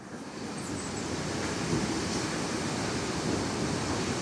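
Waterfall seen from across a valley, a steady broadband rush of falling water at a distance, constant and unbroken with a faint windy wash, no voices.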